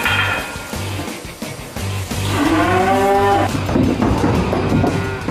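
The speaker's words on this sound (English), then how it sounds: "you don't see cows running around like this here every day" Cattle on a farm low out a loud, drawn-out moo that rises and wavers in pitch, heard up close after a quieter stretch of rustling.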